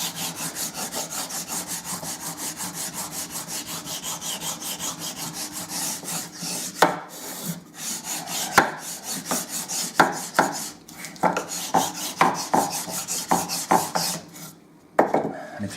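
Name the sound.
burnishing wood inlay with bottom of super glue bottle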